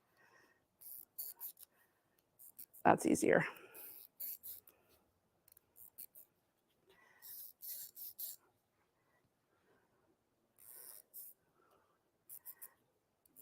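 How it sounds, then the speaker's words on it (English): A chalk wheel rolls across fabric while tree outlines are marked for a Christmas garland, making short soft scratchy rasps in scattered bursts, with one louder rub near the start and a brief spoken remark. "All right, I got my chalk wheel now."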